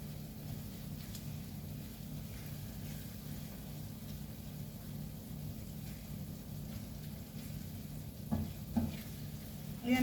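Garlic frying in a pan with a constant close sizzle and crackle, like light rain, occasional scraping as it is stirred, and no talking.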